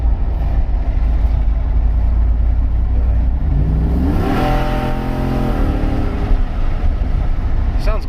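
A Ford engine with a temporary exhaust setup idles with a low rumble, then is pushed to wide open throttle, its loud note rising sharply and holding high before easing back.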